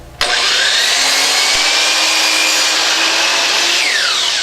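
A miter saw is switched on with a sudden onset and then runs through a cut in wood, a loud, close, sustained high whine with a slight pitch shift near the end.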